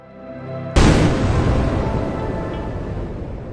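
A sudden loud blast as hydrocarbon-laden air auto-ignites inside an imploding submersible, a sharp boom after brief low rumble, followed by a long, dense roaring decay that fades slowly.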